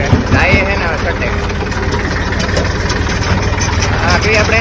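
A tractor engine runs steadily close by, with a loud, continuous idling rumble filling the whole stretch while people talk over it.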